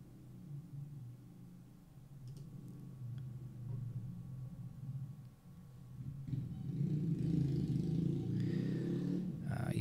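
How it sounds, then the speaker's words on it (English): Loud motorbikes pass outside on a street in Bangkok, heard as a distant low engine rumble that swells toward the end as one draws nearer, muffled through walls. "You might be able to hear the sound of very loud motorbikes outside"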